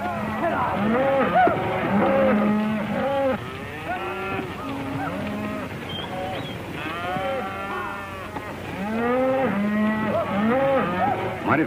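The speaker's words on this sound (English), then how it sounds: "Mighty fine cattle, boss." A herd of beef cattle on an open range moos repeatedly, many overlapping low and drawn-out calls from several animals near and far, in a 1937 western film soundtrack.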